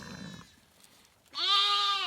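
Sheep bleat loudly and close by in one long wavering call, after a softer earlier stretch of low rumbling and quiet background.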